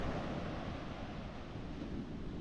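Atlantic Ocean waves breaking on an exposed beach in northern Portugal, a steady, dense roar of surf with wind buffeting the microphone throughout, no voices.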